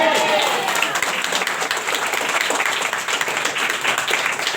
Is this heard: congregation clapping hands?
yes